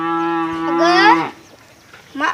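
A calf gives a loud, drawn-out moo that rises and breaks off, followed by a brief quieter pause and the start of another call.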